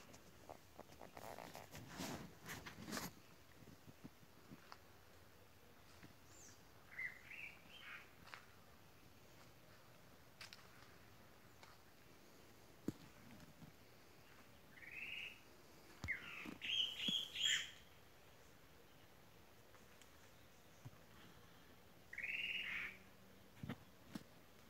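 A chalk-browed mockingbird singing outdoors in nature, with faint, distant short phrases in scattered bursts separated by long pauses, set against quiet rustling and light handling noise.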